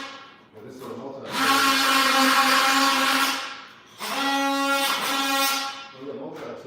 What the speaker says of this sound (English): Well, this is a multi-tool.